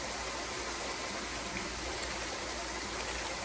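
A backyard waterfall water feature running, a steady close rush and splash of falling water that fills the whole stretch with no break.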